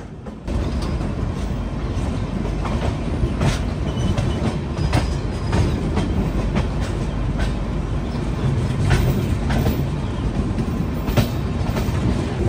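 Humsafar Express train runs steadily on the rails on its way from Jammu toward Tirupati, giving a continuous rumble with repeated clickety-clack wheel beats and no voices.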